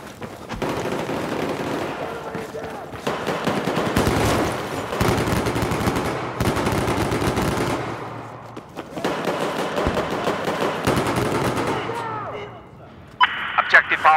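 Machine gun fire in Battlefield 4 rattles in long, loud, sustained bursts with short pauses between them, close up and dense, with other gunfire and game noise mixed in.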